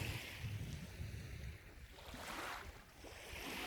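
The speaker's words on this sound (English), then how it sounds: "Just a nice soft breeze." Soft outdoor breeze blowing steadily across the microphone, a low continuous rush of air that swells slightly near the end, with no voices.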